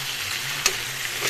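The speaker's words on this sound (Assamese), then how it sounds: "কবিখিনি প্ৰথমতে প্ৰায় 1-2 মিনিট সময় মই এনেদৰে ভাজি থাকিম।" Cauliflower and potatoes frying in oil in a pan, a continuous soft sizzle close by with one brief crackling pop midway.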